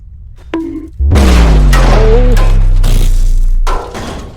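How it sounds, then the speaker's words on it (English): A grenade explodes in the People Playground ragdoll game, a sudden loud deep boom after a brief click, followed by a ringing, rumbling tail with whistling and debris-like crackles that fades after a few seconds. "Grenade."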